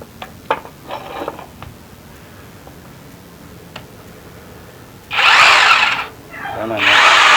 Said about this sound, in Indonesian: Ini kita coba bor kayu ya.